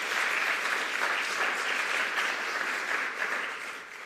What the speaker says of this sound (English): So a round of applause for our LIMPI staff and board of members.